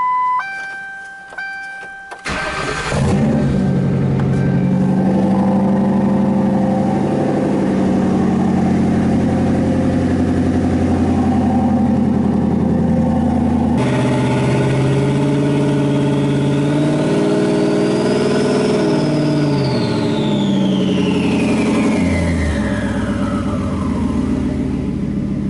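Car engine cranking over and catching after a starter whir in a garage, then a loud steady idle, with one rising and falling rev later, no voices.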